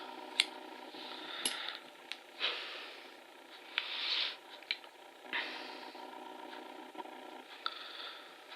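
Scissors or cutters snip excess wire off a rebuildable coil: a few sharp, quiet clicks and short snips, spaced irregularly over faint handling noise.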